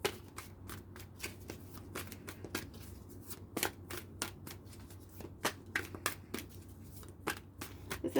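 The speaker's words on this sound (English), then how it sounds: "just forward it if this shuffling goes on a bit long" Tarot cards are shuffled by hand continuously, a steady stream of soft riffles and crisp flicks, fairly quiet and close, with no talking.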